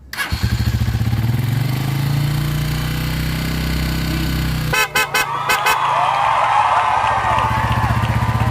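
A motorcycle engine idles loudly and steadily, then a newly fitted PIAA loud horn blares in several short, sharp toots followed by a longer sustained honk over the running engine.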